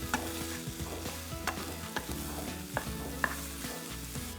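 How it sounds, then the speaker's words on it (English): Chakalaka vegetables being stirred in a pan, with a spoon scraping and clacking at steady intervals over a low, continuous sizzle of cooking; no talking. "we're going to give it a nice mix. And we're going to let it cook for a bit."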